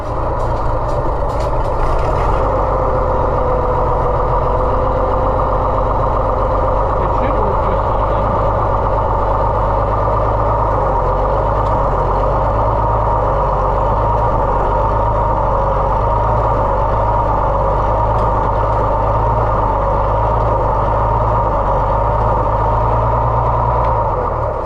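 An Oliver 1650 tractor engine idles just after repair, a loud, steady low diesel rumble that runs unbroken throughout, with a few brief metallic clicks near the start and no speech.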